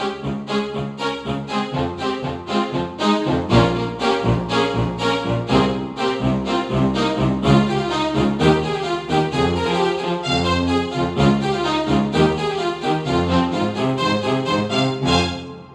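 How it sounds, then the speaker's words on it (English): String orchestra voice of a Kawai KDP120 digital piano, playing the introduction of a well-known pop song, with sustained lush bowed-string chords and a moving melody that hold steady and loud throughout, without talk. "I just want to show you the sound now of the string orchestra."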